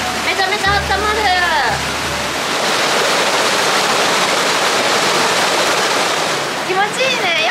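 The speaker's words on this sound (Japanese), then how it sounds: "川のそばにあるとさ、川のせせらぎを聞きながら、いいよ" A river beside a hot spring rushes with a loud, steady broadband murmur like a small waterfall, heard close throughout, while people talk over it at the start and end.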